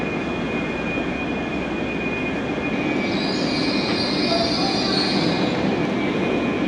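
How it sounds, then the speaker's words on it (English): An LNER train rumbles in to a station platform steadily with a faint high squeal of wheels and a constant whine, heard at a moderate distance with no voices. "that's our train just arrived right there at platform 6"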